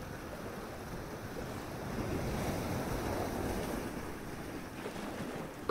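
Gentle ocean waves wash onto a beach on a calm evening, a soft continuous surf hiss with light wind noise, steady and unbroken throughout.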